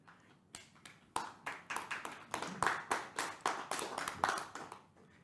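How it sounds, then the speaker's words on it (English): Handclaps in a cricket interview setting come as a faint, evenly spaced series of about a dozen sharp claps, with quiet room tone between them. "It deserves an applause."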